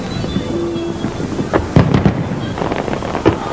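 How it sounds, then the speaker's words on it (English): Fireworks discharged from a large barge and eight pontoons during a Lunar New Year display, several distant sharp bangs and crackles over a constant wind-like rumble. "the fireworks display showed up a new mirror image effect, with fireworks being discharged from one large barge accompanied by 8 pontoons"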